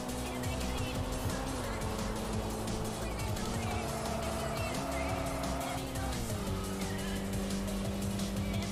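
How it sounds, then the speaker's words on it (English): A racing car engine in the video game Tokyo Xtreme Racer 3 drones steadily and shifts pitch through several gear changes, loud and continuous, with tire noise and a voice speaking over it. "not used to the sound of the revs yet"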